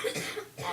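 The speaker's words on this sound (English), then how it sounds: "excuse me if I go into a coughing fit" A sick adult coughs once or twice, close and fairly loud, with a short wet, throaty quality and nothing else around it.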